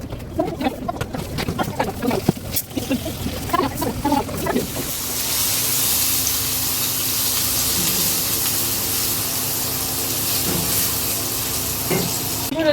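Spiced eggplant and potato pieces dropped into a hot pan, a loud continuous sizzle and hiss after a few seconds of clattering stirring and scraping, the frying steady and close.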